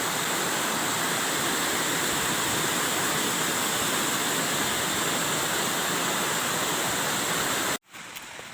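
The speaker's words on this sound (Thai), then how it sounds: "นี่ครับ น้ำตกบางจำ" Steady, dense roar of Bang Cham waterfall in Kaeng Krung National Park, Thailand, loud and continuous, close up, cutting off abruptly near the end to a quieter background hiss.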